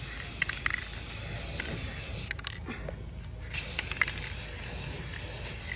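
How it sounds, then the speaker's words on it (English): A spray can hisses continuously up close as a clear gloss coat goes onto a small DIY wooden dog staircase, broken by a short pause before the spray resumes more loudly. "I'm going to hit it with a quick clear gloss just to make sure it stays"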